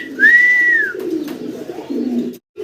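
A single fancy pigeon coos up close, soft throaty rolling notes with a brief high whistle-like tone at the start, then a short gap of near silence at the end.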